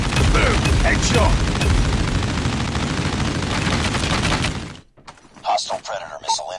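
Machine gun fire rattles in a long, loud, continuous burst during a COD Mobile match, then cuts off abruptly, leaving sparse game sounds and effects.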